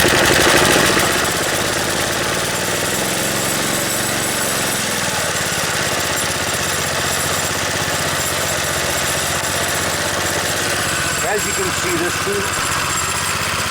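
A vintage 2 horsepower Briggs and Stratton engine on a Montgomery Ward machine runs steadily with a dense, continuous mechanical chatter and drone, close and loud throughout, with a brief shift in tone near the end.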